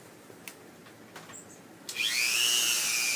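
A Dremel rotary tool spins up on a low setting after a few small clicks and knocks, then settles into a steady, close high-pitched whine that rises slightly in pitch and carries on alone.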